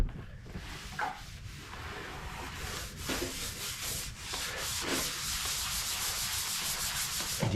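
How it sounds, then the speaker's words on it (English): Wooden cabin countertop being scrubbed with a white scrub pad, a continuous close rubbing and sanding sound in quick back-and-forth strokes. "You get these little white scrubbies and you just scrub it in really good."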